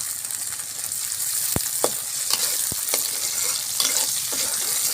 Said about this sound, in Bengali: মিডিয়াম মাঝখানেতে আমি থোড় ভাজিগুলো দিয়ে দিব।